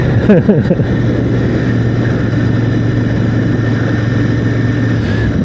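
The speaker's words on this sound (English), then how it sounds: "I'm out on my motorbike." A steady, loud engine drone runs throughout with a constant low hum and wind rush, and a brief voice near the start.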